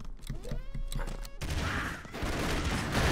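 Rapid bursts of video game gunfire and explosions from Broforce, a dense crackling barrage of shots and blasts, loud and close, with brief speech near the start.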